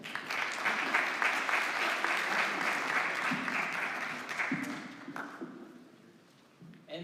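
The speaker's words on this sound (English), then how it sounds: "If you guys will join me in giving these folks a round of applause here." Audience applause at an emergency summit, dense clapping that holds steady for several seconds and then thins out and fades, ending with a few scattered claps and faint low noises.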